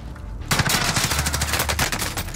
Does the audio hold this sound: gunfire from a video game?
yes